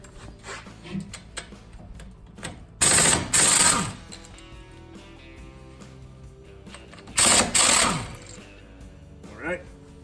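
Ratchet with a 3/4 inch socket working the brake caliper bolts on a 2007-2013 Chevy Silverado during rotor replacement, heard as two loud, rapid clicking bursts a few seconds apart, with quieter handling noises between.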